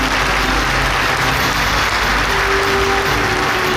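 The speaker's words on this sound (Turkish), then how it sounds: "Alkışlarınızı" Steady, dense applause from a large audience greets Alexander Sikorinov, captain of the ship MSC Türkiye, at a ceremony, a loud, continuous wash of clapping with no pauses.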